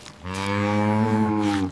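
A cow gives one long, loud, close moo, a steady drawn-out bellow that holds for over a second before cutting off, with nothing else around it.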